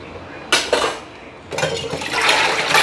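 Dishes and a milk vessel being loaded into a home dishwasher, with clattering clanks of metal and crockery in two bursts, the second a longer rattling sequence close by.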